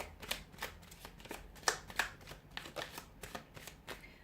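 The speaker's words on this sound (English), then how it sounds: "We'll give the cards a shuffle" Tarot cards are shuffled in quick, repeated riffles, a soft papery flutter coming in bursts about every third of a second, close up and quiet.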